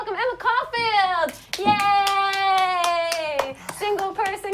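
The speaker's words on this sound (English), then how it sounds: "Single person clapping in a room for another person." One person claps repeatedly in a room, the sharp hand claps coming close and quick while an excited voice calls out over them.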